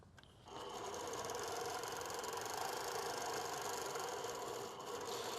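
A sewing machine stitches variegated thread, running in a steady, continuous mechanical whir at close range for nearly the whole stretch after a brief quieter start.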